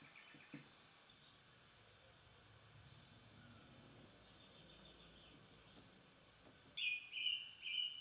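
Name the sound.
song thrush singing repeated phrases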